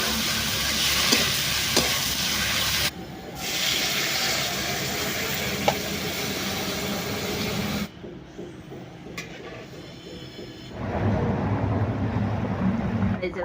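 Pre-fried potatoes go into hot oil for Kashmiri aloo dum, cooked in a village kitchen. Loud continuous sizzling and stirring fill the clip, with brief drops in level and a quieter stretch before the frying swells back.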